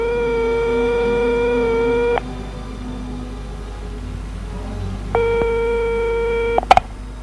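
Repeated telephone ringback tone on a call: a steady buzzing tone with harmonics sounds for about two seconds, falls silent for three, then returns, ending in a few clicks as the line is picked up.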